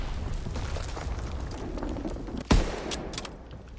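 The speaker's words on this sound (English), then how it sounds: "Enemy mortar fire incoming." Enemy mortar and gunfire in a World War II-style console shooter, a steady low rumble of distant battle broken by one sharp, loud blast midway, with scattered fainter reports after it and no voices.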